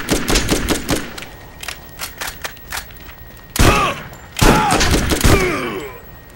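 Automatic shotgun firing in the video game Borderlands: a fast run of punchy blasts, then two heavy, louder booms with ringing, metallic tails, loud and close with no talk.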